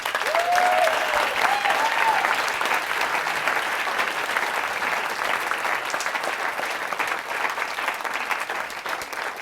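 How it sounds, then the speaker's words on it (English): An audience at a stage hypnosis show breaks into dense, sustained applause, loud and close, steadily filling the whole stretch with a brief whoop near the start. "Give these subjects a huge round of applause."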